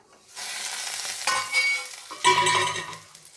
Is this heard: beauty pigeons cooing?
no